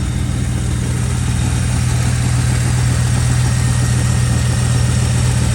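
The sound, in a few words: 1991 Chevy Camaro Z28 convertible engine idling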